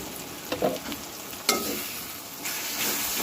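Ground spices (turmeric, chilli, coriander and cumin powder) sautéing in a pan for a fish curry with green banana, with a steady sizzle, occasional stirring scrapes and clinks, close and moderately loud.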